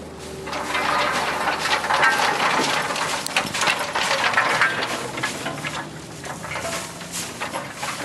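Dried peas poured into the drum of a Huller Pro 2000 pea huller, a steady dense rattling patter of many small peas that runs loud and continuous for the whole stretch.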